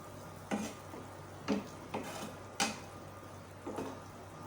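Chicken sizzles steadily in a pan over a medium flame as vinegar goes in, with a spoon scraping and stirring against the pan every second or so.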